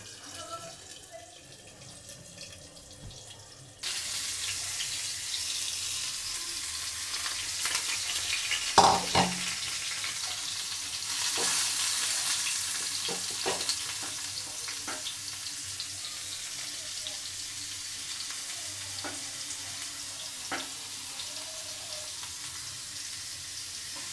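Onions frying in a covered pan until reddish-brown, giving a steady close sizzle and hiss that grows louder partway through, with a few clinks and a voice speaking briefly.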